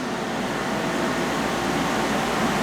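A CNC machine thread-mills a hole for a half-13 bolt in a small shop, giving off a steady, loud, unbroken mechanical whir and hum that holds evenly throughout.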